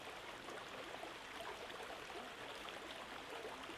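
Steady broadband rush of a forest stream flowing, an even, continuous water murmur at low level with no breaks or voices.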